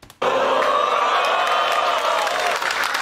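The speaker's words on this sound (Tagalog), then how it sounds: "Kita nyo naman sigawan ng tao." A live crowd at a BLKD versus Flict G rap battle suddenly erupts into loud cheering, shouting and applause after a punchline. The roar stays dense and sustained throughout.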